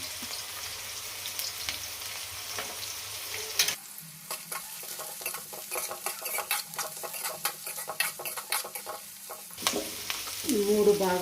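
Peeled garlic cloves frying in hot oil in a pan, a steady close sizzle with scraping stir strokes and light clinks of the utensil against the pan, loud and continuous.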